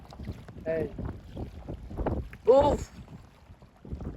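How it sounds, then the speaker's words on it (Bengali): Strong wind buffets a small boat on the water, a low rumbling gusty roar under the microphone, while people talk over it and one voice briefly rises. "অনেক বাতাস ভাই"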